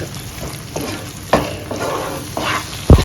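Thick fish curry gravy stirred in a pan for fish pollichathu, with a few scraping strokes over a soft sizzle and a sharper knock of the spoon near the end, close by.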